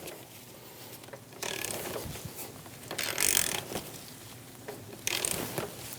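A ratchet turns the engine of a 2005-2009 Subaru Legacy over by hand during a timing belt job, giving quiet mechanical clicking in a few short bursts between pauses, close and alone.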